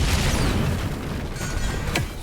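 A bomb blasts in God of War Ragnarök, heard as a loud, sustained rumbling boom with crackling debris and a sharp burst near the end. No one speaks.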